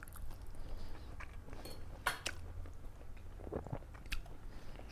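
Fried cauliflower being eaten close up: soft bites and steady chewing with a few brief crunches, no talking.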